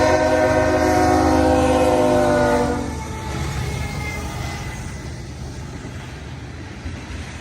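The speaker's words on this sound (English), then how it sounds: "I got word from Isabella P. that a BNSF leader was leading on 313." Night freight train 313 with a BNSF locomotive leading passes close and loud, its horn sounding over heavy rolling rumble for about three seconds before the noise drops to a steadier, fainter roar of passing cars.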